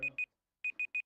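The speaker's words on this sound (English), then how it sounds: "The beeping is something new." Electronic alert beeping during an online call: five short, clean, high-pitched beeps, two then a pause then three, near and clear with a faint murmur under the first pair.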